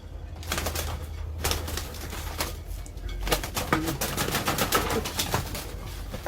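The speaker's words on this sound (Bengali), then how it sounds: "খুব ছটফটে পায়রা" Pigeons in a loft move and flutter close by, with dense clicking, scrabbling and wing flaps over a low rumble, and a few soft coos under the activity.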